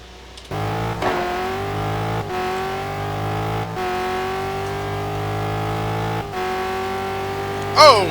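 Race car engine on a hot lap at Fuji in a GT1 racing game league, a loud sustained drone that climbs in pitch, drops sharply at each gear shift, then climbs again, repeated several times.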